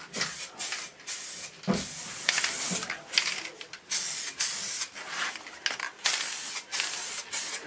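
Frost liquid wrap from Delboy's Garage hisses out of a spray can in short, repeated bursts as edges are coated, each spray close and sharp with brief pauses between.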